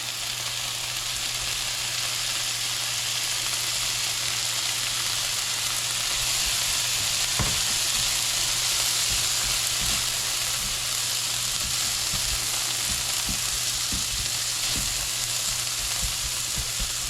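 Long beans stir-frying with dried shrimp in a hot pan, a steady loud sizzle throughout with occasional clinks and scrapes of stirring, no talking.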